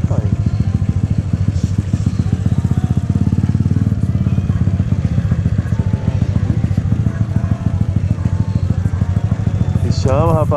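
A Honda Titan 150 motorcycle engine runs hard and revs up steadily, its loud, continuous drone close to the microphone throughout, with voices talking faintly over it.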